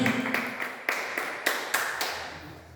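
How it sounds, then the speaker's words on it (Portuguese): A church congregation claps in praise, about six loud, evenly spaced clap bursts in a reverberant hall. "Pode aplaudir o Senhor com as palmas e os lábios"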